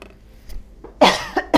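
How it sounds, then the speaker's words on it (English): Quiet room tone, then a loud close cough burst followed by two shorter coughs in quick succession. "There's no reason for me to really cough."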